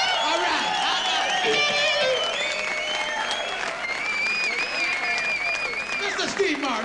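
A live audience breaks into loud, sustained clapping and some cheering after a guitar solo at a concert, filling the room from start to finish with a voice speaking over it.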